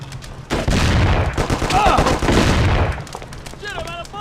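Gunfire in the PS2 video game Mafia: a loud, dense burst of rapid shots fills about two and a half seconds, then dies away into quieter game sound with faint chirping tones.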